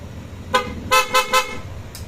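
An aftermarket PIAA car horn, fitted to a motorcycle, is sounded in a short blast followed by three quick loud toots and a faint final beep, close by.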